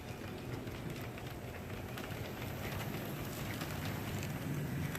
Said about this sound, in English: viewing the train heading west on the Mahanoy and Shamokin branch.